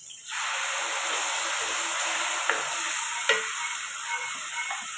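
Onion, ginger, garlic and tomato paste hits hot oil and fries with a loud, steady sizzle, close up, with a couple of brief clatters of stirring breaking through the hiss.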